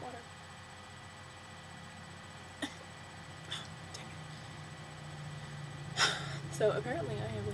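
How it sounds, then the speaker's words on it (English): A person hiccups a few times, giving short, sharp, quiet gulps spaced several seconds apart over a low, steady indoor background. "So apparently I have the hiccups"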